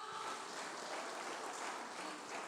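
Dense, continuous applause from a church congregation during a sermon, steady and somewhat distant, without pause.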